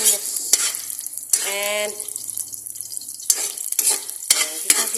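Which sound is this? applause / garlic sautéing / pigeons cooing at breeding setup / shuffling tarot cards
garlic sautéing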